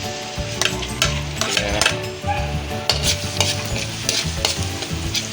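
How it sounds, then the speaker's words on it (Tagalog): Garlic sautéing in a pan gives a steady sizzle with occasional stirring clinks and scrapes, continuous and fairly loud. A voice speaks briefly near the start. "So, igigisa muna natin ang ating bawang."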